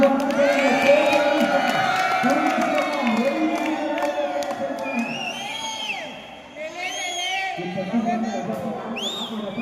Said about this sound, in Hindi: दर्शकों से चाहूंगा जोरदार तालियों से